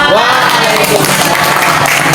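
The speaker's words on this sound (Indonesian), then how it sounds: "Tepuk tangan buat kelompok 1 yang sudah mempresentasikan hasil diskusinya." A school class applauds after a group finishes presenting its discussion results, a short, loud burst of close clapping lasting about two seconds.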